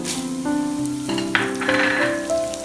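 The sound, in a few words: spices roasting in a pan for idli podi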